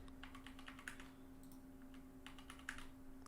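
Keys tapped on a computer keyboard while a password is entered during a Raspberry Pi home NAS setup, two short bursts of quiet, close clicks over a steady electrical hum.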